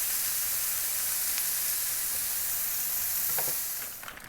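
Chicken and shrimp sizzle steadily in a cast iron skillet, a constant close frying hiss throughout with a few brief scraping stirs near the end.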